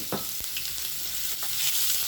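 Onion and garlic frying in hot oil in a pot, a loud continuous sizzle with a couple of sharp stirring clicks early on.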